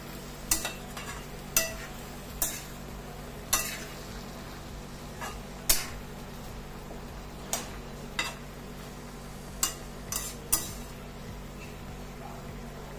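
Grated ginger stirred into a cooking dish, with a spoon clinking against the pan in sharp, repeated taps over a soft, steady sizzle.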